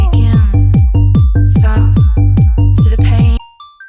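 A raw, buzzy synth square wave with no effects plays a quick rhythmic sequence of about a dozen short plucked notes, loud and dry, ending abruptly.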